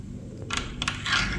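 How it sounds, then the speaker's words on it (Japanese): A key turns in the lock of a hotel room door in Chiang Rai, Thailand, giving a few close metallic clicks and rattles in quick succession. "念のためにね、鍵も閉めておきます。"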